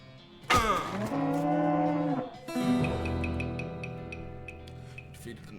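A flaming floating cow skull enemy in the West of Loathing video game lets out a loud, drawn-out moo, followed by a second lower bellow that fades out over several seconds, with no talking.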